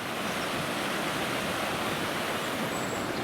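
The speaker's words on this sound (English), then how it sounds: "River's flowing quite high today." Steady, dense rush of a river running high, filling the clip, broadband and continuous like fast-moving water close by, with no voices.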